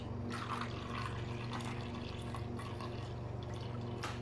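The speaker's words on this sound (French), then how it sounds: "vous allez au four et ensuite vous mettez votre eau pour faire le bain-marie" Water is poured into a baking mould to make a bain-marie for little cream pots, a steady trickling stream with splashes, heard close against a constant low background hum.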